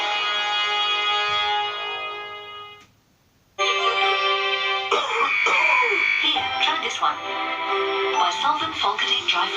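Coughing in a TV advert for Volcadine dry cough medicine, heard over steady background music, with a brief drop-out partway through and a voice talking.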